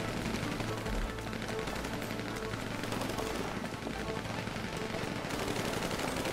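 Nonstop automatic gunfire in a team shooter video game, dense overlapping rattling bursts and shots that stay loud and constant for several seconds with no letup.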